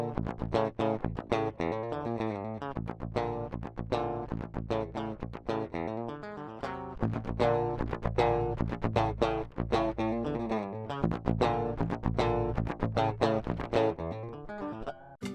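Raw metal guitar DI tracks from a progressive metal song, left and right sides summed, play as continuous rhythmic riffing with dense, chugging palm-muted strums and accented stabs, clean and unprocessed, without any voice.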